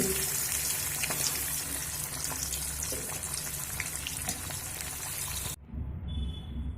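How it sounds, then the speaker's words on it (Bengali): Paneer frying in a pan, a steady dense crackle and hiss that keeps on for most of the stretch, then cuts off abruptly near the end, leaving a quiet low rumble. "একইভাবে আমি সব পনিরগুলো ভেজে নিয়ে ফিরে আসছি"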